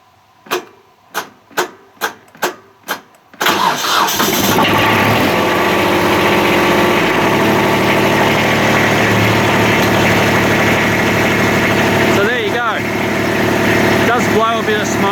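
A Kubota B2100 compact tractor diesel engine with worn injectors cold starts: five or six sharp cranking pulses, then the engine catches and settles into a loud, steady, rough idle close by, with faint brief sounds later over the running engine.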